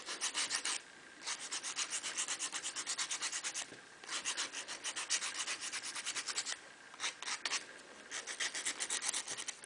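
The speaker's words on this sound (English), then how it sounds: "then you take your either rougher sandpaper or your nail file and just smooth out where it goes to a point" Sandpaper or a nail file rubbing the tip of a handmade knitting needle to smooth its point, a quick rhythmic scratchy rasp in steady strokes with brief pauses, close and moderately loud.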